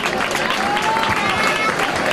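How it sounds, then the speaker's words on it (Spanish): Audience applause for Juan Carlos de Borbón at a 15M anniversary gathering, a dense, steady wash of clapping throughout, loud and close with crowd noise and some voices mixed in. "Un aplauso a don Juan Carlos"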